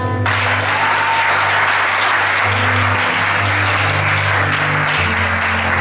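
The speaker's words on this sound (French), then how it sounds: "Est-ce que tu entends acclamer Jésus?" A church congregation applauding and acclaiming Jesus during a night vigil, sustained dense clapping from a large crowd that stays loud and steady throughout, with a sung tone underneath.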